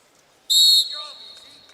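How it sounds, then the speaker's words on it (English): Sharp, loud referee's whistle blast at a college wrestling match between Iowa State and Minnesota, a single short shrill burst that trails off into faint arena noise. "And now the whistle blows too far out of bounds."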